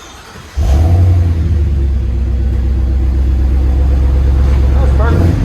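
A Ford F-350 pickup with a 7.3L gasoline V8 and aftermarket exhaust fires up loudly and holds a deep, rumbling roar close by, with a slight rev rising near the end.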